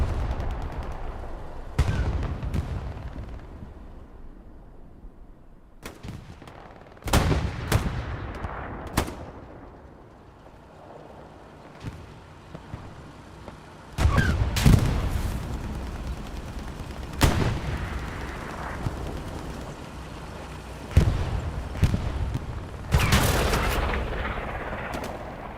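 Explosions from a bombing run in the World War II shooter Hell Let Loose, with several loud, sharp blasts and booms spread irregularly across the stretch, each followed by rumbling decay, and quieter distant battle noise in between.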